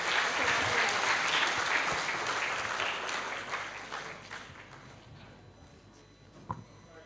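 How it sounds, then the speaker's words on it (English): Audience applause for Mr. Tandy after a public lecture at the Embassy of Canada: dense, steady clapping fills the room at first, then thins and fades toward the end, leaving a few scattered claps. "Please give more applause for Mr."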